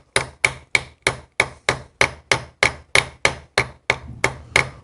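A ball peen hammer's rounded end strikes metal in a steady run of about fifteen sharp, ringing blows, peening over a new tappet roller for a Flathead 80 engine, close and loud with no talk.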